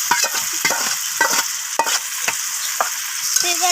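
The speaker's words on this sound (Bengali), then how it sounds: "তো এবার আমি মটনটাকে ভালোভাবে কষাতে থাকবো" Marinated mutton stir-fried in a pan: a loud, continuous sizzle broken by repeated scraping strokes of a spatula at a brisk, uneven rhythm, close up.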